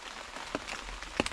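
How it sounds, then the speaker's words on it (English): Heavy rain drumming steadily on a Huntsen hunting blind at night, a dense close patter with occasional sharper drops striking the fabric. "It's been pouring the rain all night long."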